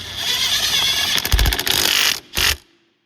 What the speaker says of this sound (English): just put this bolt in here and tighten it up